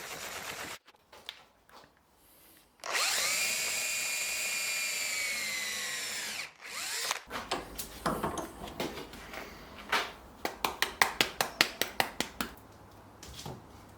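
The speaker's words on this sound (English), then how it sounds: "I chopped the end off and then drilled out the middle so that I could put a dowel inside." A drill bores out the middle of a cut tree branch for a rustic cake stand, a high whining spin lasting a few seconds, followed by a run of sharp rhythmic knocks and clatter.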